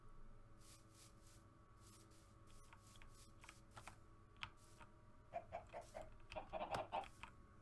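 Chickens cluck in a farming video game, a few quiet, brief clucks against a low, steady background hum with soft clicking.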